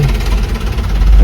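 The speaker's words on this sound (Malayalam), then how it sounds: "ട്രാക്ടർ" A tractor engine chugs and idles nearby in Tenkasi, a steady low vibrating rumble throughout the short stretch.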